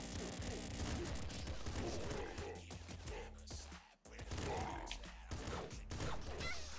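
Rapid gunfire from the Nuclear Throne Ultra Mod video game crackles in dense bursts with clattering impacts, loud and continuous apart from a brief gap, with a voice talking over it.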